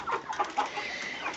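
White silkie chickens clucking nearby in short, soft bursts, several quick clucks in a row with faint background noise.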